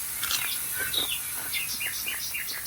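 Recorded birdsong plays from a television indoors: a steady run of bright chirps and short whistled calls, moderately loud over a faint background hiss.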